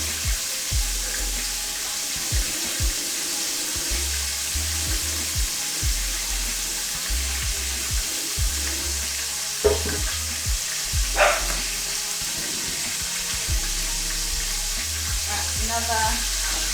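Steady sizzling and crackling of food frying in a pan, continuous throughout, with occasional faint clinks and stirring sounds.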